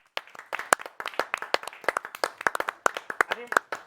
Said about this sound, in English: I think we should give a round of applause to him.